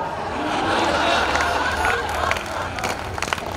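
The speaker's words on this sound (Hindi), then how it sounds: "ऐसी तालियां बजाते रहो ताकि हम भी सांस लेते रहे" Dense applause and cheering from an audience at a Hindi comedy poetry show, swelling then continuing with scattered claps, mixed with crowd voices.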